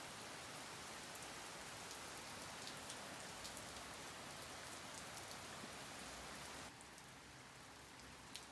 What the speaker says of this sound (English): A steady moderate rain.